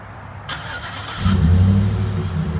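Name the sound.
2011 Chevrolet Silverado 1500 4x4 truck engine starting and revving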